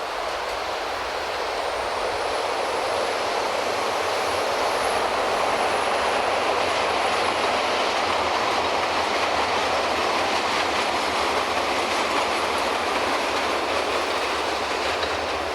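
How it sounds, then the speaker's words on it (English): A train rolls past in a Chicago neighborhood near the former Cabrini Green housing project, a loud, steady rumble of rail cars with a faint wheel squeal, continuous for the whole stretch with no talking. "I'll wait for the train."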